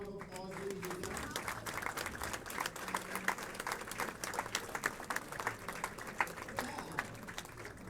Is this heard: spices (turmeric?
no